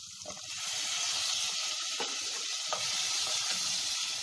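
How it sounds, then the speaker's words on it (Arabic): Meat and a cinnamon stick sizzle in melted margarine in a pot on a gas stove, a steady soft hiss of frying with faint crackles, heard alone. "خليو اللحم تاعنا داك يتقلى في هذيك الزبده"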